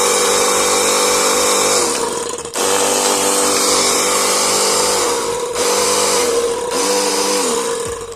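Cordless battery-powered jet cleaner with a 10-cell battery pack, its motor running dry without water, a loud steady whine with short dips and restarts, close and alone.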